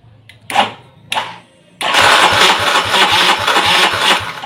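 A motorcycle engine is cranked with its electric starter during a sensor fault check, two short starter bursts failing before the engine catches and settles into a steady, loud, close idle with a regular pulsing beat.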